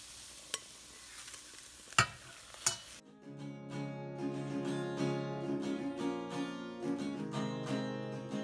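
Frozen spinach leaves added to a pan for palak paneer give a few sharp knocks, then a continuous soft sizzle and crackle as they wilt and heat through. The cooking sound stays fairly quiet and close.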